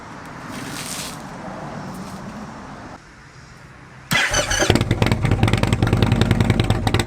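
An Indian Chieftain motorcycle with Rinehart exhaust tips, baffles and a 585 cam fires up after a quieter idle-like stretch, bursting into a loud, throbbing, revving exhaust rumble up close, with no talk.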